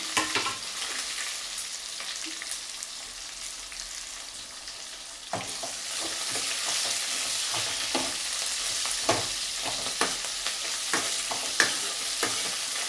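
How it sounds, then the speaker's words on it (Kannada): Onion, dried red chillies and roasted gram sizzle and crackle together in hot oil, with steady frying hiss and intermittent stirring scrapes and pops throughout. "ಈರುಳ್ಳಿ, ಒಣಮೆಣಸಿನ್ಕಾಯಿ, ಹುರುಗಡ್ಲೆ, ಸೊ ಎಲ್ಲ ಹಾಕಿ ಒಟ್ಟಿಗೆ ಫ್ರೈ ಮಾಡ್ತಾ ಇದ್ದೀನಿ"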